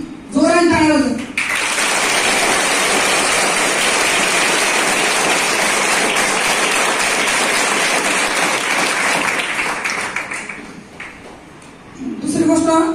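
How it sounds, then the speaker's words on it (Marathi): Large audience at a police-run social awareness program in Aurangabad bursting into loud, sustained applause for their parents, a dense wall of clapping lasting about ten seconds before fading, with brief speech at the start and end. "एकदा आई वडिलांसाठी जोराने टाळ्या वाजवा."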